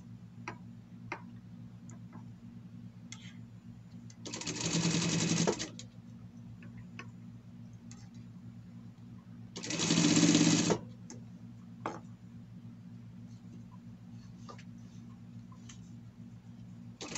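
A sewing machine stitching a Kiko costume runs in two short whirring bursts of about a second each. Quiet ticking and clicking fill the gaps between them, close by with no speech.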